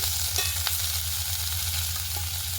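Kohlrabi frying in a pan, a steady loud sizzle and crackle throughout, with a few faint stirring scrapes and no talk.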